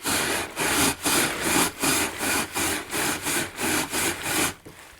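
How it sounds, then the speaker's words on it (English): Steady, rhythmic scrubbing of a stiff chimney brush sliding back and forth inside a coal stove's metal pipe, about a dozen strokes, close and loud. "rotate the chimney brush as you slide it up and down"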